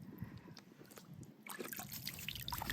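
Water is poured onto the last bit of baking soda meant for a pool. It makes a soft, faint trickle and splash that swells partway through, with no talking.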